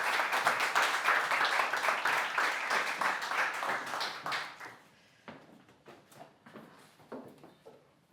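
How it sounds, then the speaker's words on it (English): Warm applause from a conference audience for the speakers at a renewable energy and supply chain emissions panel, dense and loud for about five seconds, then thinning to scattered claps. "please just give a very, very warm round of applause for our speakers"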